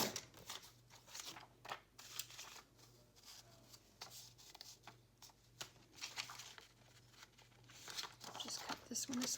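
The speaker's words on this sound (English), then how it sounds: "Just need to cut just a little fraction of it off." Scissors snip through thin translucent vellum paper in soft crisp cuts and crinkles, close and quiet over a faint steady hum.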